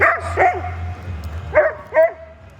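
Sled dogs bark and yip in short bursts close by, a few sharp barks spaced apart over a low steady hum, as eight dogs wait to be harnessed.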